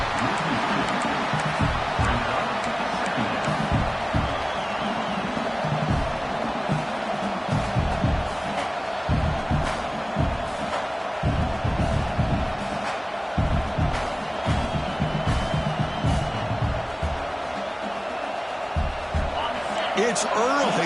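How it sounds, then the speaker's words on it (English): A loud stadium crowd roars steadily at an American football game, with cheering and a constant wash of noise under an announcer's voice. "It's early, but this crowd is fired up. Listen to this noise here."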